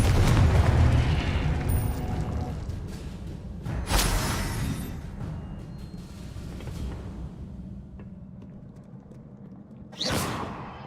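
A Confringo fire spell from Hogwarts Legacy explodes amid spellcasting combat, with heavy booming blasts at the start, a sharp burst around the middle and another punchy blast near the end over a steady rumbling background.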